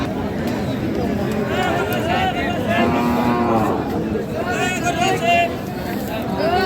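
Bulls moo repeatedly in drawn-out calls at a busy village cattle market, set against a steady background of crowd chatter and people talking nearby.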